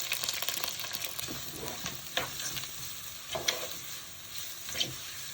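Dried red chili, chopped onion and minced garlic frying in a pan, a soft continuous sizzle with intermittent scraping strokes of stirring, close but fairly quiet.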